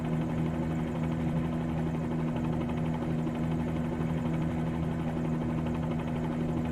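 A Bell-47G helicopter glides down to land during a sightseeing flight over Pearl Harbor and Waikiki, giving a faint, even, buzzing rotor-and-engine drone that stays constant throughout.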